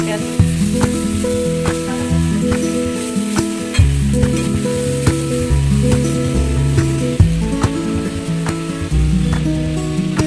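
Chopped onion fries in a pan as the base for a chicken roast gravy, a loud, close, continuous sizzle with scattered pops and scraping stirs throughout.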